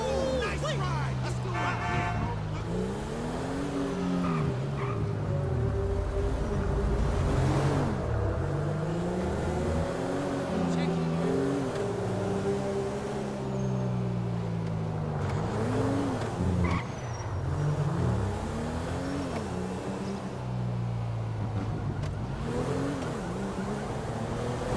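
Mercedes-Benz Maybach driven in GTA V, its engine droning and rising and falling in pitch with repeated revving and tire noise, while someone talks over it.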